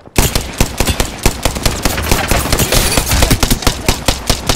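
Rapid automatic gunfire rattles in Apex Legends, dense bursts of loud, close shots firing in quick succession without pause.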